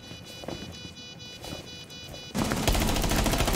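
Rapid automatic gunfire from a Rainbow Six Siege match bursts in loudly and continuously over the last second, after quieter in-game movement and faint earlier pops.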